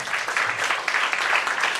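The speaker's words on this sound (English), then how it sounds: "A big round of applause." Audience applause at a career seminar, a dense, lively patter of many hands clapping, fairly close and steady with slight swells.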